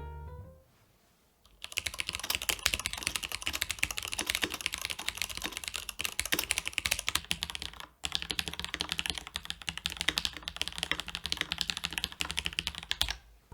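Rapid, steady clacking of lubed Zealios MX-style mechanical keyboard switches being typed on, close and clear, after a quiet opening second, with a brief pause near the middle before the fast typing resumes.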